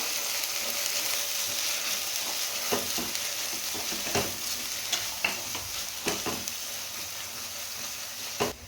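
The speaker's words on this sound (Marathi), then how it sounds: "तयार केलेलं वाटण आपण यामध्ये ॲड करायचं व्यवस्थित परतवून घेऊया" Ground masala paste stir-fried in hot oil with curry leaves for a stuffed brinjal curry: a constant loud sizzle, broken by repeated sharp scrapes of a spatula against the pan.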